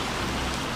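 Steady heavy rain pours down in a dense, continuous hiss, close and enveloping, with no voices.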